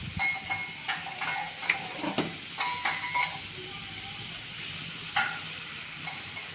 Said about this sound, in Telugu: ఆయిల్ హీట్ ఎక్కింది ఇప్పుడు దీంట్లో కజ్జికాయలు వేద్దాము